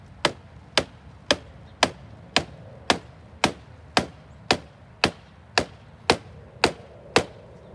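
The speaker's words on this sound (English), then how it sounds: "take your hammer and drive it in" A hammer drives a stake into the ground beside a young tree, fourteen sharp, evenly spaced strikes ringing out one after another, loud and close with nothing else over them.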